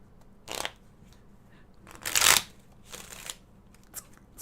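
Playing cards riffled and drawn in a few separate bursts, the loudest a crisp flutter near the middle, with short quieter card handling before and after in an otherwise quiet room.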